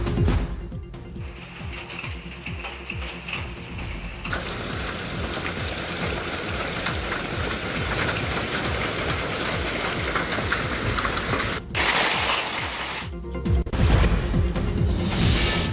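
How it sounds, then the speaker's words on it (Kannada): A heavy hailstorm in a village area, dense pattering and drumming of hail and rain on surfaces, quieter at first then building to a loud, continuous roar with a brief dip near the end. "ಭಾರೀ ಪ್ರಮಾಣದಲ್ಲಿ ಸುರಿದಂತ ಆಲಿಕಲ್ಲು ಮಳೆಗೆ ಸಾರ್ವಜನಿಕರು ಕಂಗಾಲಾಗಿದ್ದಾರೆ."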